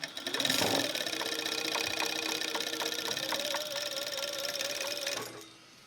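A sewing machine stitches at high speed with a steady, fast mechanical rattle and a rising whine, loud and close, stopping abruptly near the end; top thread tension has been adjusted.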